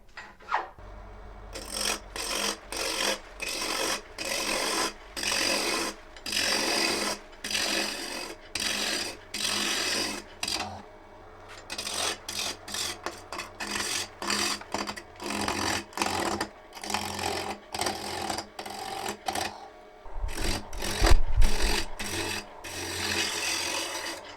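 Wood spins on a lathe while a tool cuts a tenon on the end, producing bursts of raspy scraping and rubbing that start and stop repeatedly, close and moderately loud, with no talking.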